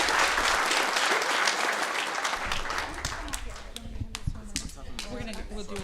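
Audience applause fills a city council meeting chamber, a dense, loud wash of clapping for the first half that thins into scattered claps and murmuring voices as it tapers off.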